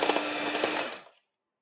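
An electric mixer whirs loudly as it beats butter for cookie dough, running steadily for about a second before cutting off into silence.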